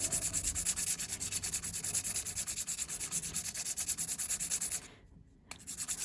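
320-grit sandpaper rubs rhythmically back and forth against silver by hand in quick, close, scratchy strokes. It pauses briefly, then the sanding starts again.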